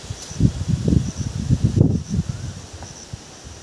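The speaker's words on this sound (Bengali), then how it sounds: "আর বাইরে ভীষণ হাওয়া দিচ্ছে" Strong wind blows outdoors at a railway station in Howrah, buffeting in low rumbling gusts that swell and fade over a few seconds.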